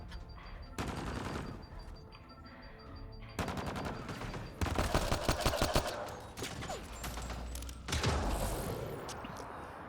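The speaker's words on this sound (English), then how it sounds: "they started shooting at us first" Bursts of rapid gunfire in a space video game, several dense volleys separated by short gaps, loud and close with sharp repeated cracks.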